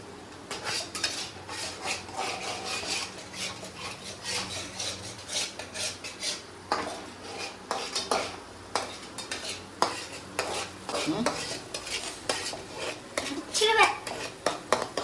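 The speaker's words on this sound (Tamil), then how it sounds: "இது மாதிரி தான் வதக்கணும்" Ingredients are sautéed in a pan, with rapid scraping and stirring strokes of a spoon against metal, close and busy, while voices, including a child's, talk intermittently.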